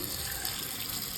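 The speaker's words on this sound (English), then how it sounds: "it is kind of leaking out on the sides like that" A leaking faucet is opened, releasing a steady, close hiss and splash of running water that stays even throughout, with water escaping around the sides of the fixture.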